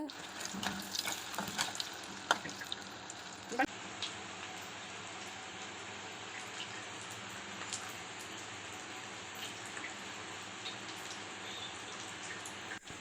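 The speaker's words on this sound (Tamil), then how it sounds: "இப்போ வந்து கடாயில் எண்ணெய் ஊற்றி இதை நல்லா ஃப்ரை பண்ணி எடுத்துக்கலாம்" Jackfruit pakoda frying in hot oil in a kadai, a steady broadband sizzle that holds evenly throughout, with a few sharper spits and pops early on.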